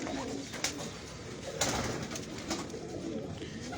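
A pigeon kept by a rooftop pigeon fancier coos faintly in the distance, mixed with soft ambient noise and a few brief knocks, with no voices.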